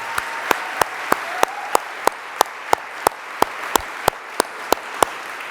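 Audience at a college honors convocation gives a round of applause for an award recipient who is absent: sparse, evenly spaced sharp claps, like a small group or a single clapper, over a faint room murmur with no one talking.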